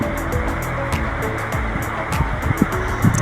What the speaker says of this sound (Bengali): এবার আমি ব্লেন্ডার করে নিচ্ছি দেখা যাক কীরকম হয়